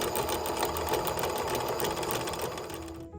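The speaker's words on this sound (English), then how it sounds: "The first step is to drill a small hole in the top of the nickel." A small drill bites into a pure nickel coin to make a hole at its top. The buzzing whir is steady and close for about three seconds and then stops, with no talking.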